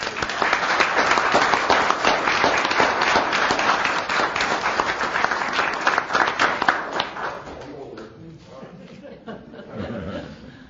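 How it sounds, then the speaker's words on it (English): At a council meeting, a room of attendees claps loudly and steadily for several seconds. The applause then thins and fades, and a little chuckling and murmuring remain at the end. "Give them a round of applause."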